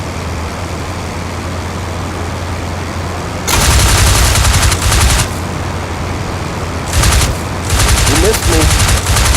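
Aircraft machine guns fire in IL-2 Flying Circus over a constant engine drone, in one long burst and then several shorter bursts, loud and close, with brief talk over the radio.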